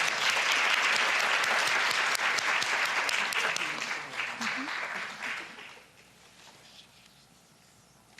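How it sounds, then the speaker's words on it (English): Indoor applause from an audience at a school board meeting, dense and steady clapping for several seconds before tapering off into near quiet. "that deserves a clap"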